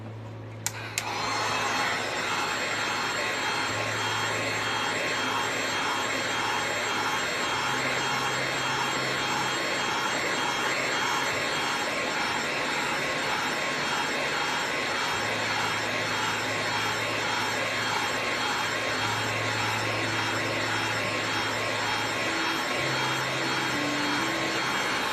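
A heat gun blows hot air steadily to dry a layer of paint on a mason jar, a loud continuous whooshing roar with a faint hum that holds unbroken throughout.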